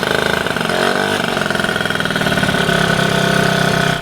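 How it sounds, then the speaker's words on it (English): Passola scooter fitted with a swapped 3KJ stage 6 50cc street race engine runs steadily, a loud close buzzing idle with slight revving throughout, no talking. "The 3KJ swapped stage 6 50cc street race engine roared to life."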